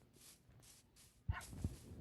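A dog barks in the Minecraft video game, two or three quick yaps close together near the end, standing out over a quiet game background.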